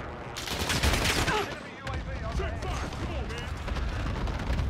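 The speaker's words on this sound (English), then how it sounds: "Enemy cluster strike incoming." Cluster strike explosions in Call of Duty Warzone: a dense, loud barrage of rapid overlapping blasts and crackling booms, a brief lull, then more rumbling detonations rolling on.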